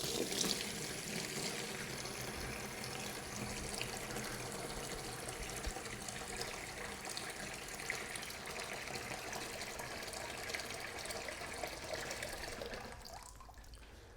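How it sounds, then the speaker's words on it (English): Warm water runs steadily from a tap while rinsing a wood duck skin for taxidermy, a continuous close splashing and trickling that fades slightly at the end. "This next water batch is going to be another warm water rinse."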